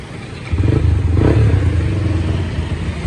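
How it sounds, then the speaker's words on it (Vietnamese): A 2016 KPR 125 motorcycle engine fires up after a brief pause and settles into a loud, steady, throbbing idle close by, with no one speaking. "nổ máy cho anh em đây"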